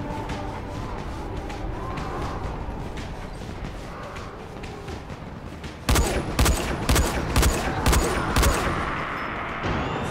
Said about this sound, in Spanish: la de tiros que le metió y sobrevive el tío